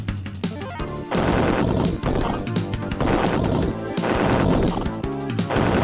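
Retro video game gunfire rattles out in rapid, loud bursts of repeated shots, punctuated by crashing impacts, with almost no talking over it.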